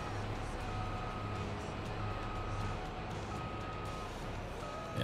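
A farm vehicle in Farming Simulator 22 backs up with a repeating reversing beep, evenly spaced tones over a steady low engine rumble, moderately loud and without talk.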